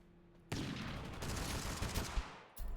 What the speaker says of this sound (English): some guy fired a sniper